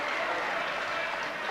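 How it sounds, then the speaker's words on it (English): Basketball crowd at a 1982 Top Shot semi-final between the Bruins and Dominoes, roaring and applauding in a sustained, dense wash of cheering and clapping after a referee's call, loud throughout. "About the biggest reaction we've heard from a crowd during Top Shot 82"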